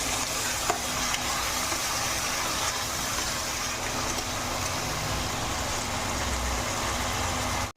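Chili, ginger and garlic paste frying with potatoes in hot oil in a pan, a steady, close broadband sizzle with stirring that holds evenly throughout before cutting off at the end.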